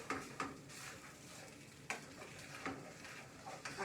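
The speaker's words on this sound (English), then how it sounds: "So give this a good stir." Food being stirred in a pot for a gluten-free frumenty, a soft scraping swirl with a few louder knocks of the spoon against the pot, heard close and alone over a low kitchen hiss.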